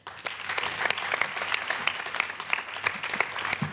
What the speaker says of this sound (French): Merci de faire un tonnerre d'applaudissements pour Sophie Chiret.